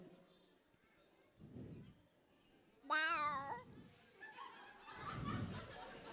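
A man vocally imitates cats, one meowing meekly and apologetically, then a louder rising, wavering cat cry, with some chuckling and laughter around it.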